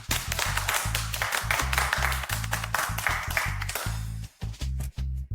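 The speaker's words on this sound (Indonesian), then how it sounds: "semuanya berikan tepuk tangan meriah" Office staff clap to welcome a new team leader, a dense steady patter of many hands running for several seconds over a low, pulsing musical bed, thinning briefly near the end.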